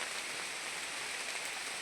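Rain falls outdoors as a soft, steady hiss of drops, continuous and even over a short stretch, with no voices present.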